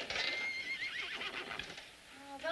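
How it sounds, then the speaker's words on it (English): Horses whinny loudly at night, shrill neighs overlapping one another with faint hoof clatter beneath, close and insistent for a few seconds. "Oh, those horses are so noisy tonight."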